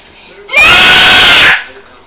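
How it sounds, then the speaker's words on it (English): A toddler lets out one loud, piercing scream during potty training. It lasts about a second, alone and close to the microphone. "Hey, don't scream like that."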